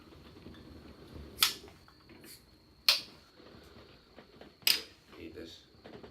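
A beer bottle is pried open with a lighter: three sharp metallic clicks and pops spaced about a second and a half apart, fairly close, amid quiet room noise.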